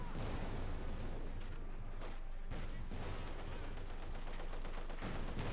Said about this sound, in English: Lots of shots there being fired.